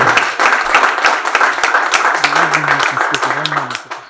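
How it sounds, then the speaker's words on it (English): Crowd applause for a law professor at a diplomatic visit event, a steady wash of many hands clapping throughout with a low voice murmuring underneath, fading at the end. "Please, a round of applause for him as well."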